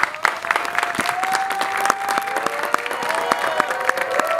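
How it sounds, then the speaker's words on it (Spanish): A studio audience on a Platanito TV show breaks into sustained applause, dense overlapping claps filling the room, with a steady tone ringing beneath. "3, 2, aplausos."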